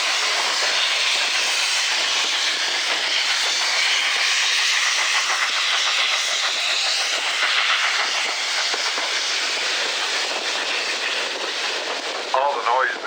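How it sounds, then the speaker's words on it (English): A loud, continuous hiss of steam venting from a steam locomotive safety valve on the Cumbres & Toltec railroad between Antonito and Chama, roaring steadily close by for the whole stretch. "that's actually the safety valve or the pump-off valve"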